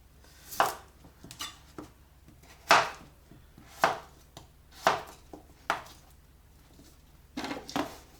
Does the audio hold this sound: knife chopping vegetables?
yes